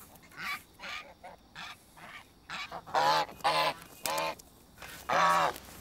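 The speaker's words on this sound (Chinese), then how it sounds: "还有鹅。" Geese on a farm honk loudly and close by in a series of harsh, nasal calls. The calls come irregularly and grow louder and more clustered toward the end, with no voices heard.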